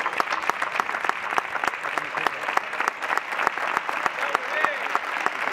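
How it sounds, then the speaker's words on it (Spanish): Crowd of football fans at a sports tribute event in Don Benito, Mexico, applauding steadily; sharp individual claps stand out over a continuous roar of clapping, with voices mixed in. "le dedicamos este aplauso cariñoso de parte de toda la afición de México"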